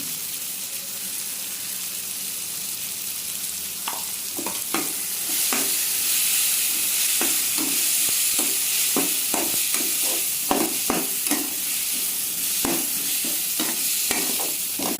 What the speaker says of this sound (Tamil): மஞ்சள் தூள் மிளகாத்தூள் வாசனை போகிற வரைக்கும் இதை கொஞ்சம் வதக்கணும்